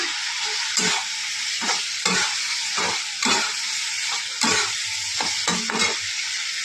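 Prawns fry in a cooked-down spice masala in a wok, a loud continuous sizzle with repeated spatula scrapes and stirring strokes throughout, close by.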